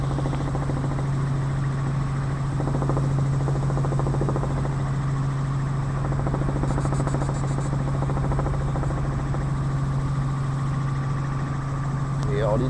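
A helicopter flies over Orly airport, its engine and rotor producing a steady, droning hum that runs the whole way through, with faint voice chatter in the background.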